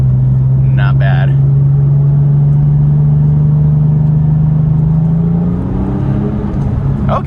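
Porsche 996 Turbo with a Fabspeed exhaust pulling in second gear, heard from inside the cabin with the window closed: a steady low engine drone that rises slightly in pitch toward the end, with a brief voice early on.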